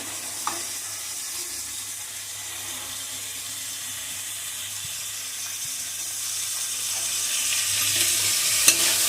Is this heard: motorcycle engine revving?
no